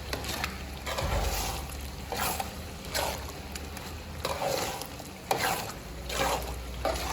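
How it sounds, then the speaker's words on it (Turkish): Tomato paste sautéing in a large pot, a soft sizzle broken by repeated scraping stirs at a slow, uneven rhythm, fairly quiet and close, with no voices. "Şimdi güzelce salçamız da kavrulacak"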